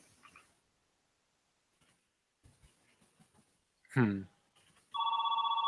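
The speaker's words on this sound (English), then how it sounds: "Oh, nice. The phone's ringing." A telephone rings in the background with a steady electronic double tone that starts near the end and continues, following brief soft talk and a sharp louder bump.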